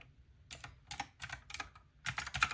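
Close, crisp computer-keyboard typing during an Arch Linux install comes in quick bursts of clicking keystrokes separated by short pauses, with no talk.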